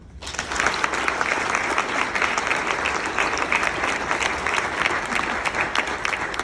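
Dinner audience at a commemorative banquet breaking into applause, a sudden onset of many hands clapping that stays loud, dense and even for several seconds, with no talk over it.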